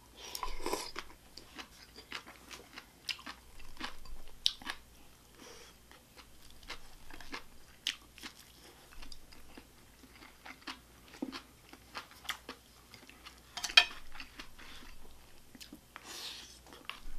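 Kimchi being eaten up close at a homemade mukbang dinner, with soft crunchy bites and wet chewing repeating irregularly, quiet and intimate, alone without talk.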